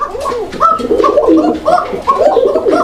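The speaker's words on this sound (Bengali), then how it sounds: "এটা আজকে ডিম দিবে হান্ড্রেড পার্সেন্ট ডিম ডাকটা দেখা দিই" Domestic pigeons in a loft coo steadily, several rounding, rhythmic calls overlapping one another close by for the whole stretch, with no talk over them.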